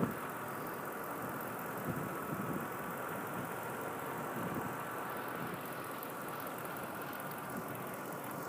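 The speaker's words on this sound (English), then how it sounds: "truck is running" A 2004 Ford F-150 4x4 pickup with a 5.4 liter engine idles steadily, a low continuous rumble held at an even, moderate level for the whole stretch with no talk over it.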